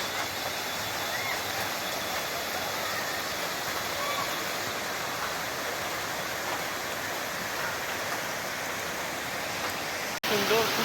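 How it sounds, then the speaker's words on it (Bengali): A waterfall beside a hanging bridge in the hills during rain, a dense, steady roar of rushing water that stays loud and unbroken throughout, with a brief break near the end. "আর এই পাশে হচ্ছে ঝর্ণার আওয়াজ।"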